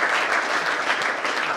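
Audience applause at a Christian senior high school visit by a provincial governor, a steady, dense burst of clapping filling the brief moment without voices.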